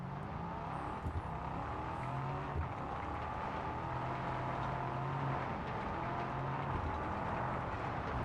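A car driving off-road in Test Drive Unlimited, its engine droning steadily with faint tire noise and rumble, moderate and continuous throughout with no talk.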